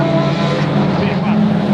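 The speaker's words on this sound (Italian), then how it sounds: "Il rombo del motore." An Audi RS3 TCR race car with a DSG gearbox at an endurance race gives a loud, continuous, buzzing engine roar with steady droning tones and slight pitch shifts.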